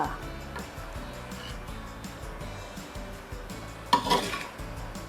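Stir-fried clown knifefish (phat cha pla krai) is scraped from a pan onto a plate, making a low, steady stream of faint scraping and soft sizzle, then one sharp utensil clink with brief clatter near the end.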